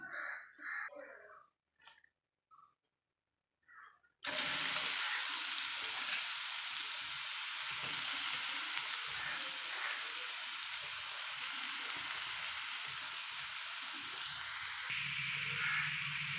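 Chopped cabbage for a cabbage thoran hits a hot frying pan with a sudden loud, steady sizzle. The sizzle runs unbroken after a few quiet, scattered clinks and knocks at the start.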